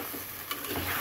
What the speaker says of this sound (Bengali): পোলার চালটা যে পর্যন্ত ভাজা না হচ্ছে সে পর্যন্ত কিন্তু এটাকে ভাজতে হবে